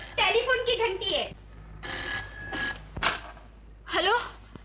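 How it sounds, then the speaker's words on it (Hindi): An old telephone bell rings in short bursts in a classic Hindi film scene, with voices speaking between the rings. "खाने की घंटी नहीं है, टेलीफोन की घंटी है।"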